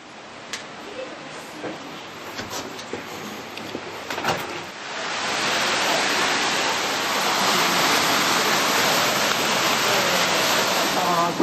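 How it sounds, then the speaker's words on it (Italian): The famous waterfall at Nesso on Lake Como, a steady broad rush that swells much louder partway through and then holds. "lì comincia la famosa cascata che abbiamo visto l'anno scorso dall'altra parte"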